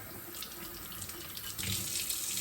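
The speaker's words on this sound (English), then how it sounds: "All I'm doing is just rinsing them, giving them a good soak, and then emptying out that water." Tap water runs into a container of sprouting seeds and beans being rinsed, a steady splashing stream that grows louder and fuller toward the end, no voices.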